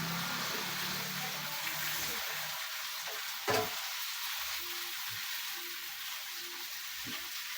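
Chicken adobo fries in a pan while being stirred, a soft steady sizzle with a few scraping and knocking stirs, fairly quiet and close.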